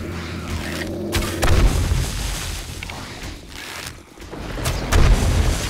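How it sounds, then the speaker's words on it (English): Heavy booming blasts from explosives detonating among a horde of zombies in 7 Days To Die, several deep thuds and rumbling bursts spread across the scene, loud and close with no talking. "Let's use some explosives on them."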